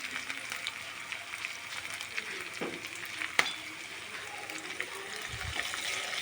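Green chillies and curry leaves frying with lightly browned onions for a ridge gourd and tomato curry give a steady, close hiss of sizzling oil, broken by a few soft stirring clicks.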